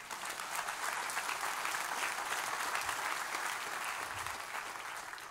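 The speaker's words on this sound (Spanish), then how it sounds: "¿Cuánto le da un aplauso al Señor?" Steady applause from a church congregation during a sermon, a dense, even wash of clapping that holds at the same level for about five seconds with no voices over it.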